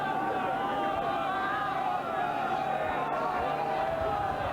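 Racecourse crowd noise builds before a horse race at Royal Ascot: a dense, steady roar of many distant voices that holds without a break, with a commentator's voice faintly over it.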